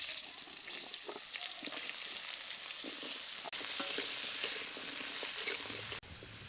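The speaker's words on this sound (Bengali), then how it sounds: "সবজিগুলো হালকা লালচে রং ধরা পর্যন্ত ভেজে নেব।" Chopped vegetables frying in hot oil over a tempering of dried red chillies and five-spice seeds, giving a steady, loud, close sizzle with faint stirring scrapes throughout and no talking.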